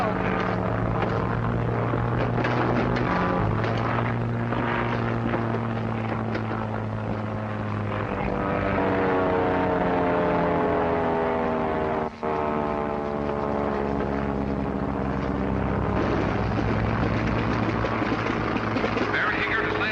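A propeller airplane comes in to land in a field, its engine droning steadily at close range with wavering pitch throughout, over a brief thump near the middle.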